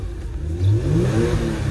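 Ford Mustang GT engine at a quarter-mile drag race, a nearby V8 revving with a rising throaty roar that swells loudly around the middle and holds a steady low rumble, no talk.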